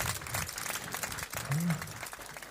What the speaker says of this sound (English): Give Asake another round of applause